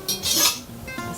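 Butter being stirred into homemade pasta sauce in a pan on the stove, with brief utensil scrapes and clinks against the cookware, fairly close and with no talking.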